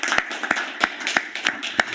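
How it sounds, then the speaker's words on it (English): Applause at a council meeting for the outgoing mayor sounds as a few sparse, sharp hand claps, about three per second, close and moderately loud with quiet gaps between them. "please, one more round of applause for your outstanding time as Mayor"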